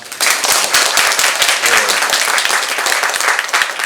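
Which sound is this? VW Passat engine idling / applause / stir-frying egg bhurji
applause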